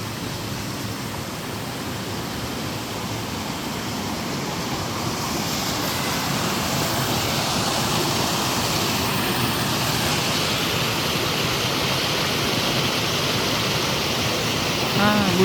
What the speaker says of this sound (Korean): 물소리가 너무 좋죠?